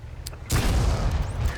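A tank cannon fires in World of Tanks, aimed at an enemy tank's grille: a sharp, heavy boom hits suddenly and leaves a loud, rumbling tail, with a few faint clicks just before.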